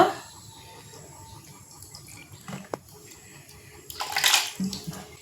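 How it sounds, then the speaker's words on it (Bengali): Soaked rice batter, blended to a paste, is poured into a large bowl and water is added, giving a soft wet sloshing and a louder splashing burst near the end, fairly close. "এটা আমি একটা বড় বাটিতে ঢেলে নিচ্ছি ধুয়ে জল দিয়ে দেব"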